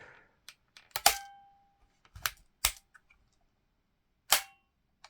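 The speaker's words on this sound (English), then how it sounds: "this spring has a twang to it" A Daisy 35 air rifle fitted with an Everbilt spring is cocked and fired. It gives several sharp, close clicks and snaps, one with a brief metallic ringing twang, spaced irregularly against a quiet background.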